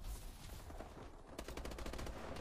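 Video game gunfire from Call of Duty: Advanced Warfare crackles in a dense, loud automatic burst during an online multiplayer match, with rapid repeated shots filling the short stretch.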